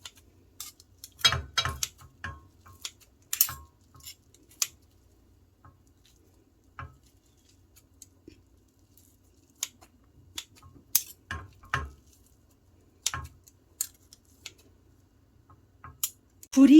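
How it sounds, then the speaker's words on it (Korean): A knife slices Korean fish cake (odeng) into bite-size pieces on a cutting board while tteokbokki is being made, giving irregular close taps and soft thuds spread over the stretch with quiet gaps between them. "오뎅을 먹기 좋은 크기로 잘라줍니다"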